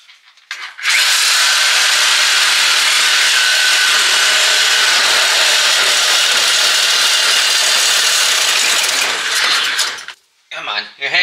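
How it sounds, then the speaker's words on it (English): Milwaukee Sawzall reciprocating saw cutting through an old exhaust pipe on a wrecked vehicle, a loud continuous rasping buzz running about nine seconds up close before stopping, with a brief burst at the end. "So I got this really cool Milwaukee Sawzall."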